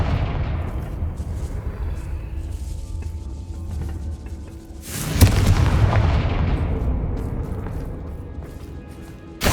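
A Confringo fire spell blasts in Hogwarts Legacy, a loud booming burst midway that rolls into a sustained fiery rumble over a low battle din, with another sharp crack at the very end.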